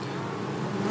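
A steady, close drone of Caucasian honeybees buzzing in an apiary, continuous and even with no pauses or voices.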